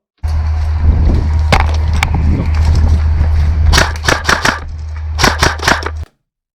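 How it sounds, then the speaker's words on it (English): Sharp snapping airsoft gun shots ring out, a few scattered early then a quick cluster of pops near the end, over a steady low hum of background noise. "so you can hear the difference in the gun firing as well"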